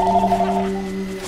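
A steady electronic telephone ring tone, a sustained buzzing tone that holds for about a second and slowly fades, with no talk over it.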